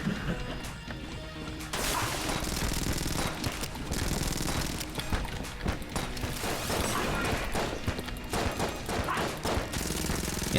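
Dense, continuous gunfire from Enter the Gungeon, with the same gun fired over and over in a steady rapid barrage, mixed with crashing impact effects and loud throughout.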